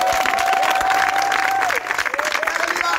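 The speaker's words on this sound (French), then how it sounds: "Acclame au Seigneur." A church congregation claps and cheers together in a loud, dense wash of applause that fills the room, with voices calling out and a sustained tone over it before the clapping thins a little.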